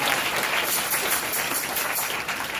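A church congregation claps hands together in a dense, steady round of applause that fills the room, continuous and fairly loud with no speech over it.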